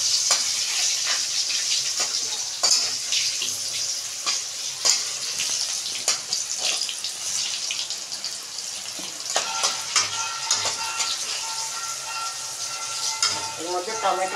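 Cumin seeds, bay leaf and dried chilli spluttering in hot oil as a tempering, a steady loud sizzle with scattered crackles and the odd stir clatter, no voices.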